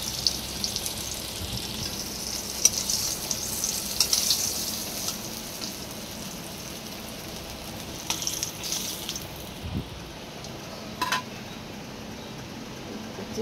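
Paneer fries in a pan with a soft, continuous sizzle and a few light stirring knocks. The frying fades quieter toward the end.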